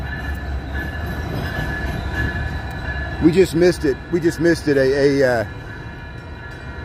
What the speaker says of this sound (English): There was a metro train that just went in the tunnel.